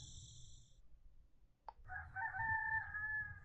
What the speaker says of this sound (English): Rooster-san does his thing.